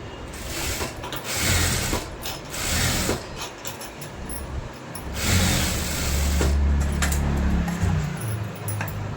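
A sewing machine stitches a blouse, its mechanism whirring and rasping in close, uneven bursts, with a heavier, steadier motor hum in the last few seconds.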